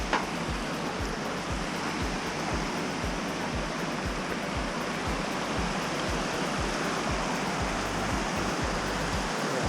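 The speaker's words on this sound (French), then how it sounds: "c'est pas mal le paysage avec la cascade là." Mountain waterfall cascading in alpine terrain, a steady dense roar of rushing water filling the whole clip with constant broadband noise and low rumble, no voices.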